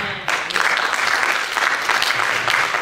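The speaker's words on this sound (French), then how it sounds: "Acclamez" A church congregation bursts into sustained applause during a sermon, dense clapping starting abruptly and holding steady and loud throughout, with faint voices mixed in.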